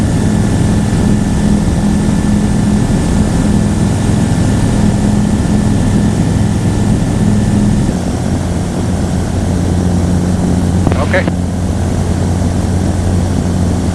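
A microlight aircraft engine drones in flight, loud and close, with a constant steady hum that shifts slightly in pitch partway through. A brief crackle near the end breaks the otherwise unbroken engine noise.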